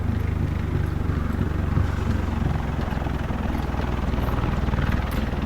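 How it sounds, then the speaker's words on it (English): Helicopter flying overhead in the video game The Division, a steady rotor thump and engine drone holding at a fairly loud, constant level for several seconds with no talk. "That's the first time I've heard helos flying"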